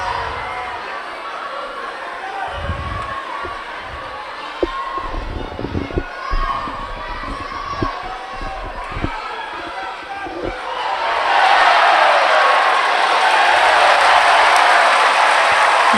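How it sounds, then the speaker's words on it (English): A big cheer rises from the crowd at a judo Grand Prix elimination bout in Tel Aviv, swelling loudly and holding steady after a stretch of scattered arena chatter, thumps and commentary. "And a big cheer from the crowd"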